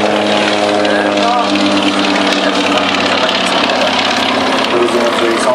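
Combustion-engine model aircraft at an air show in Góraszka, a loud continuous buzzing engine drone that stays steady throughout, with a person talking over it.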